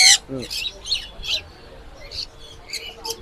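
Pet birds, including green cheek conures, calling at an outdoor bird market in Serampore: a string of sharp chirps and squawks, some loud and close, repeating every half second or so, with faint voices in the background.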